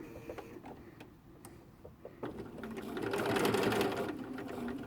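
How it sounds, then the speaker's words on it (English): Sewing machine stitching patchwork pieces with right sides together, starting with a few slow clicks and then running into a steady mechanical whirring hum that builds and holds, close up and fairly quiet. "Put the first few stitches in."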